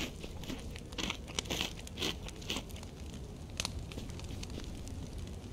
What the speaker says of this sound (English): Why is that chicken crunchy?